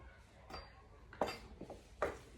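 A knife cuts through mango pieces on a board in a quiet kitchen, with a few soft, separate knocks and clicks.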